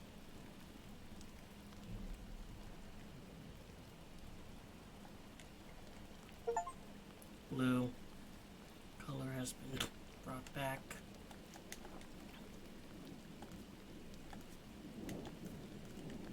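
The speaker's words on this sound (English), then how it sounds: "Now it's raining." Soft steady rain falls in the video game Gris, with a few brief louder tonal game sounds in the middle, while a person speaks over it.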